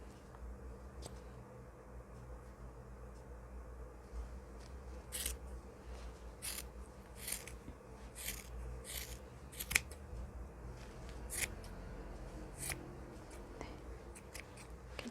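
Scissors snipping knitting yarn while a knitted hat is being made, a series of quiet, crisp cuts that are sparse at first, then closer together, over soft background noise.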